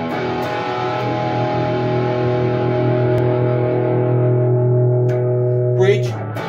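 2001 Fender Stratocaster American Standard electric guitar through distortion, a sustained chord ringing loud and gradually decaying before a brief scrape and cutoff near the end.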